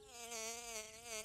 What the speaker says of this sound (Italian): Ehi, un intero sciame va verso il mio cortile!